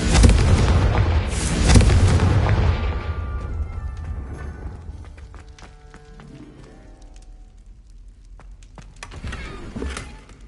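Confringo fire spell exploding in Hogwarts Legacy, a loud booming blast with a rumbling, crackling tail that fades over several seconds before smaller sharp impacts return near the end.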